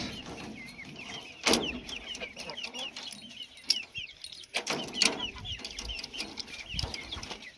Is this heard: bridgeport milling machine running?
no